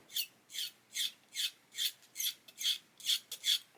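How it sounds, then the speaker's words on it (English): A blade scrapes plastic on a 1/24 Airfix Spitfire Mk.IXc model kit, giving about nine short, rhythmic rasping strokes close by, evenly spaced at roughly two per second with no talking. "So just scrape that away. Just trying to level it out."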